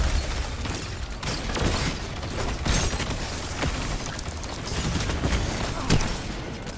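Dense, continuous video game gunfire in a zombie outbreak mode, shots popping and crackling in rapid overlapping bursts with booms in the mix, steady and loud throughout.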